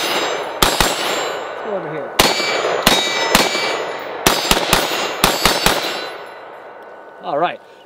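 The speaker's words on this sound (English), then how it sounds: "But I still have a couple rounds left in this mag, let's shoot it some more." Beretta ARX rifle shots ringing steel targets at a range, sharp loud cracks fired singly and in quick pairs, each followed by a metallic clang, with a brief spoken word near the end.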